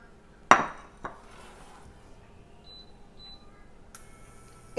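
Cut strawberries tip into a metal pan with a sharp clatter and a smaller knock just after, then a quieter stretch of faint handling and a light rattle, no talking.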